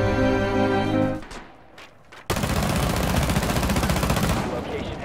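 Dense, loud gunfire from a video game bursts in after a brief lull and runs continuously to the end, following a stretch of steady game audio with the shots filling the foreground.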